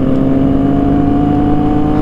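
Big motorcycles at a mini circuit, with a loud, close, steady engine drone holding a constant pitch throughout and no speech.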